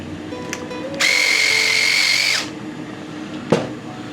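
Batter mix with eggs being whisked by a power whisk, a steady high whir running for about a second and a half, then stopping, followed by a single sharp clunk.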